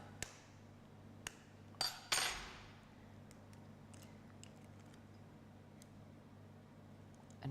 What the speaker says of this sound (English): I'm going to take 1 egg, which I'm going to crack with the back of a knife.